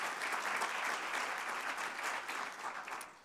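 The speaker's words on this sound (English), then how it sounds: "Give yourself a round of applause." An audience at a White House summit on early education applauds in a steady, dense round of clapping that holds for a few seconds, then starts to thin slightly near the end.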